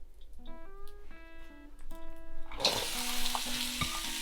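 Hot wok scrubbed between batches of stir-fry, a quiet tonal ringing first, then a sudden loud burst of sizzling hiss as water hits the hot metal and keeps crackling.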